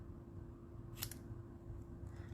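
Scissors cutting black card stock for a handmade greeting card: a single quick, crisp snip, close and quiet against a low room hum.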